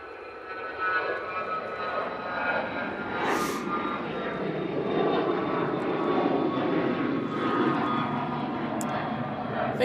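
A Jet2 jet airliner departs Manchester Airport, its engine roar steady and broad throughout, with a brief rushing hiss partway through and no clear talk over it.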